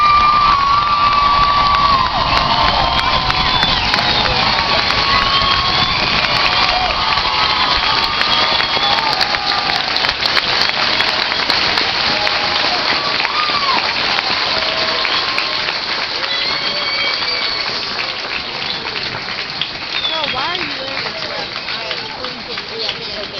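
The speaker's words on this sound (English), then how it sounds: "let's give America's newest soldiers and more importantly your loved ones a big round of applause" A large crowd at an outdoor military graduation applauds and cheers loudly and steadily, with whoops and shouts throughout, slowly easing toward the end.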